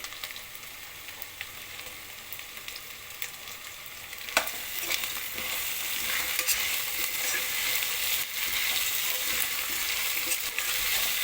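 Potato, carrot and curry leaves fry in oil with a continuous close sizzle that swells louder after a sharp stirring clatter partway through, the frying hiss then staying dense and steady to the end.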